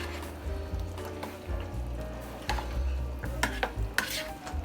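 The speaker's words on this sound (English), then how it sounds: "Let's stir that together" A spoon stirs a squash casserole mixture with sour cream in a bowl, producing continuous soft squelching and scraping with occasional sharper clinks against the sides, close and steady with no talking.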